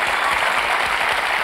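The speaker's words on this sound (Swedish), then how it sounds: "den applåden var till er" A studio audience applauds in a dense, steady burst of clapping at a Swedish television show.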